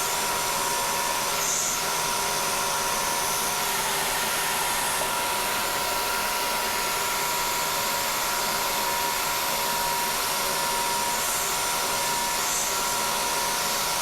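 A Bridgeport mill peck-drills a hole, giving a steady, even spindle whir with a bright hiss, continuous and fairly quiet, with no distinct pecks standing out.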